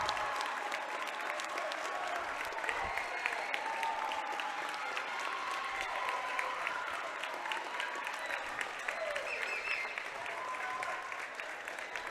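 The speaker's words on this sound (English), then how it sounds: "Round of applause for both teams." A gym crowd at a 2022 WIAA boys basketball regional final between Iola-Scandinavia and Colby applauds both teams, giving steady, sustained clapping with a few sharper claps standing out throughout.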